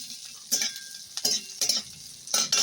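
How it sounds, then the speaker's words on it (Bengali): Chopped onion with black cumin seeds stirred in a frying pan, giving short scraping bursts of stirring over a soft, steady sizzle, close and alone. "পেঁয়াজ কুচিটা একটু কালো জিরের সঙ্গে নেড়ে চেড়ে নেব"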